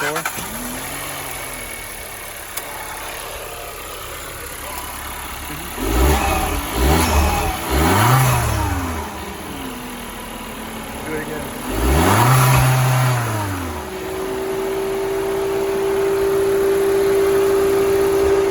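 Stock 1.4 turbo Mark 6 or 7 VW Jetta engine idling close by and then revved in two loud bursts that rise and fall, settling back to a steady idle.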